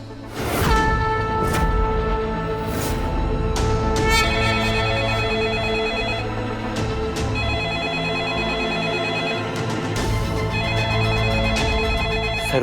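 A telephone rings repeatedly with a bright, melodic electronic ringtone over steady music, continuing for several seconds without any voices.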